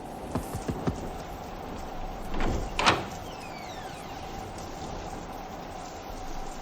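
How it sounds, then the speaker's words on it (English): Three quick knocks rap on a remote shack's door in a radio-drama scene, followed by a louder creak and scrape as the door moves, with steady rain hissing underneath throughout. "Knock on the door."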